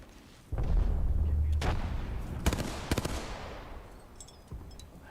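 Video game combat with a frag grenade blast and an arc star thrown: a deep loud boom opens, followed by sharp bursts of rapid gunfire and scattered fainter shots trailing off.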